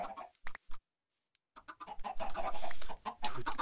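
Minecraft chickens cluck in a group in the game, short choppy clucks coming close and fairly loud, with a brief quiet gap partway through.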